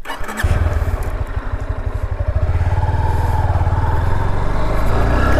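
A motorcycle engine, likely a 350 cc bike, idles nearby after being left running, a loud steady rhythmic thump that settles into an even chug throughout.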